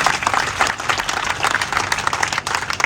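A crowd of striking clerks and their families applauds at an outdoor rally in Sonipat, with brisk, continuous clapping that holds steady throughout.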